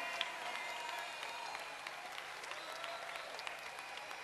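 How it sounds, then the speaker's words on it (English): Steady round of applause from a crowd at a city council meeting, a dense wash of clapping filling the whole stretch at moderate distance, no voices standing out. "give the character, behind the character, a round of applause for his good work tonight"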